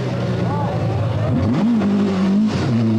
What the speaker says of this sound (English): Andy Dawson, probably on his last Datsun drive, escapes with his Datsun Sylvia